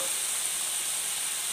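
Young jackfruit cooking in a pan of fried spice paste, a brief, steady hissing sizzle heard close and alone.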